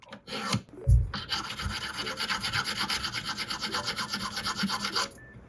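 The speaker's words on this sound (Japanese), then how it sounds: "丸くしないように紙やすりで整えていきます" Fine sandpaper rubbing along a modified wax-carving spatula blade, a steady rapid back-and-forth rasping that runs continuously for several seconds at close range, alone after a couple of initial knocks.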